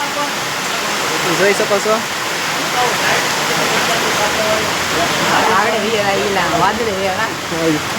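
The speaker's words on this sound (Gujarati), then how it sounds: "બહારથી વરસાદ શરૂ થઈ ગયો છે અત્યારે" Steady, loud rain pours down outside a roadside motor garage, a broad hiss filling the whole stretch while a person talks over it.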